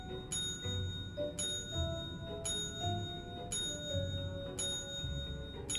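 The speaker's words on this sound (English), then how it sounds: "Ring the bell." A bell rung repeatedly in the video game Luigi's Mansion 3, five clear metallic strikes spaced about a second apart, each ringing out and fading over soft background music.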